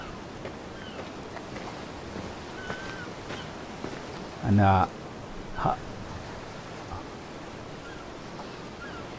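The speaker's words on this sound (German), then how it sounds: "Oh, wir sind direkt am Meer." Sea waves wash at an ancient Greek harbour at Peiraieus in a video game, a continuous broadband surf and wind hiss, with someone briefly speaking over it midway.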